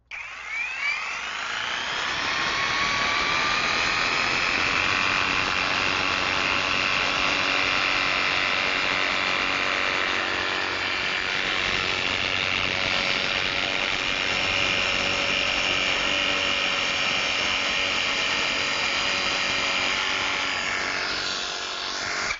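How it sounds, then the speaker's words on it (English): Cordless Woolcut 18 insulation saw making angled cuts through Front Rock MD rock wool and heavy mineral wool, a steady high motor whine with a continuous cutting hiss that runs loud and unbroken for about twenty seconds. "angled cuts in Front Rock MD and other rock wool and heavy mineral wool products are easy"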